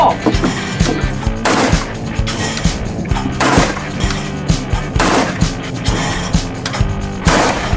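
Shotgun shots ring out at clay targets on an outdoor range during a youth quail and conservation event, a series of loud, sharp blasts spaced a second or two apart, with faint voices between them.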